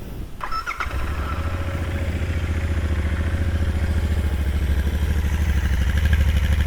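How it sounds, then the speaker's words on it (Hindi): A Royal Enfield Interceptor with its stock silencer starts from cold: a brief starter whirr and catch, then the engine settles into a steady, close, even idle thump that runs to the end. "आपको स्टॉक साइलेंसर का एक साउंड चेक दे देते हैं, एकदम कोल्ड स्टार्ट पे बाइक की कैसी आवाज़ आती है।"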